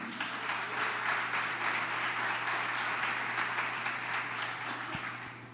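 Congregation applause during a Sunday church service sermon, a sustained, fairly distant field of many hands clapping over a steady low hum, tapering slightly toward the end.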